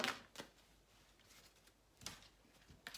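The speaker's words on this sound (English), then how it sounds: "they've thrown out two cards while I was just shuffling" Quiet, sparse riffling and slapping of tarot cards being shuffled by hand, a few short bursts separated by near silence.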